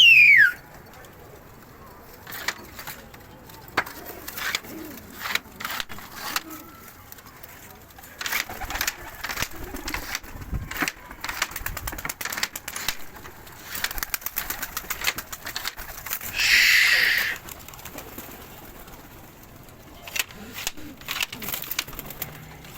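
Pigeons coo continuously in an opened pigeon loft in Imbaba, a low murmuring chorus close by. Scattered wing flaps and sharp knocks break through it, with a louder burst of rustling near the end.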